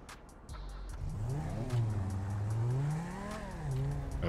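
A Porsche sports car in the video game GTA 5 revs its engine, the pitch rising and falling in smooth sweeps across several seconds, a clear mid-level game engine sound heard alone.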